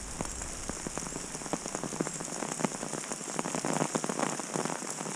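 Heavy rain pouring down outdoors: a dense, steady hiss of falling water with many close drops pattering on surfaces, continuous and fairly faint, with no voices.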